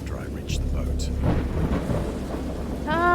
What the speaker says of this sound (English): This day it's finally raining.